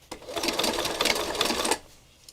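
A sewing machine stitches trim onto a quilted fabric piece in one steady, fairly quiet run of under two seconds before stopping.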